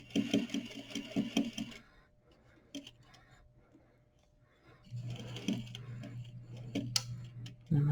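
A sewing machine top-stitches a patch pocket in short bursts, a close, steady mechanical whir that stops for a quiet pause and then runs again, with a voice talking softly in between.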